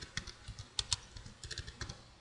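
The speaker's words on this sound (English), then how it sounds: "Oh my god, I'm having so many issues typing." Quick, uneven keystrokes clatter on a computer keyboard, close and fairly quiet, with short bursts and brief pauses.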